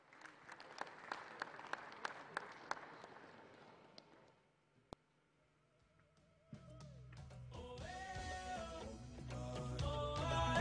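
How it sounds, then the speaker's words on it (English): Audience applause at the launch of the 25th Ghana Music Awards and nominees unveiling party in Ghana, a dense burst of clapping that fades over several seconds before music with a steady beat starts up and grows loud. "Please help me welcome, with a very big round of applause, the CEO of Chatterhouse, Mrs. Theresa Ayoad"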